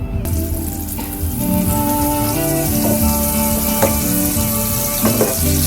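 Butter and olive oil sizzle and crackle in a hot pan, a steady, close frying hiss with scattered pops and clinks throughout.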